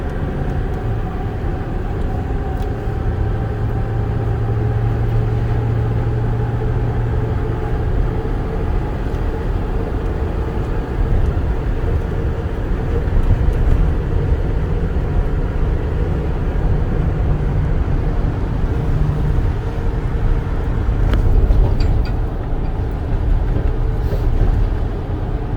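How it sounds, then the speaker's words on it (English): A 2008 Ford bucket truck accelerates with its turbo building boost, a loud sustained engine drone that swells and rises over time, recorded close by without speech. "get a shot of that acceleration there. Builds boost really nicely."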